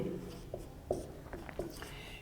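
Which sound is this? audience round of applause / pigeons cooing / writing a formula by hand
writing a formula by hand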